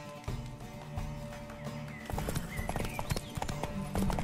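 Rhythmic clip-clop of horse hooves trotting on a hard surface in The Witcher 3 video game, steady and close, growing busier and louder partway through.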